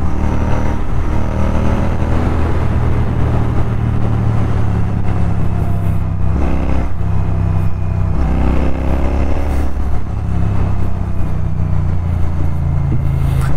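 Bajaj Dominar 400 motorcycle riding along a mountain road, a steady loud engine drone with low rumble and rushing wind throughout, no speech.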